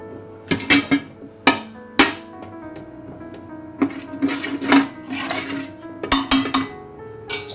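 Metal pan and utensils clatter in a home kitchen while chicken pathia paste is transferred into ghee, with a series of sharp clanks and scrapes spread irregularly over several seconds, fairly close and with no talking.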